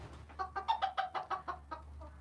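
Roosters cluck in a quick, steady series of about ten sharp notes, close and moderately loud over a low background hum.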